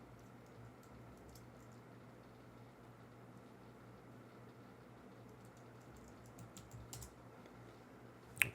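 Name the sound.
typing a password on a computer keyboard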